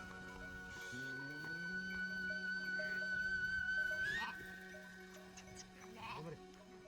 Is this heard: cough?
no